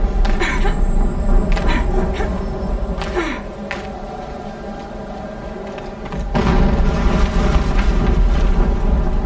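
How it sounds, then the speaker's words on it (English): Explosion in Horizon Zero Dawn: a loud, sustained rumbling boom with thuds, easing off mid-clip before a second heavy roar swells back up and continues to the end. "An explosion."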